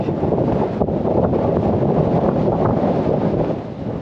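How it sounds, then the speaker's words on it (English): Strong wind roars and buffets steadily against the microphone on the Caer Caradoc hilltop in the Shropshire Hills, a loud continuous rumble with no voices. "Yeah, no, it's still windy."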